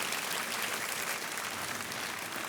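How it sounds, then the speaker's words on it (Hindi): Steady, dense applause from a studio audience on the Kaun Banega Crorepati game show, continuous and even with no voices over it. "तालियां बजती रहनी चाहिए देवी और सज्जनों।"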